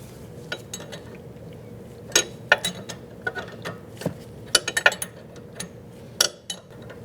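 An inner tie rod tool is tightened on a Cadillac SRX: sparse metallic clicks, ratcheting ticks and clanks come in irregular bursts, close and moderately loud over a quiet background.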